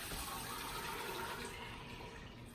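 Water and soaked black beans pour into a soup pot, a steady continuous splashing and gushing fill that stays fairly even and close for the whole stretch, with no talking.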